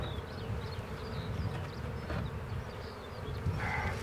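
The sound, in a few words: Italian honeybees buzzing at an open beehive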